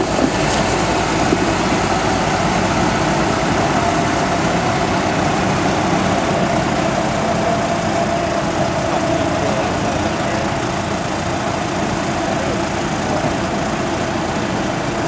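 A Fendt 936 tractor of 360 horsepower runs steadily on a grass silage clamp, its diesel engine giving a constant low droning rumble with no change in pace.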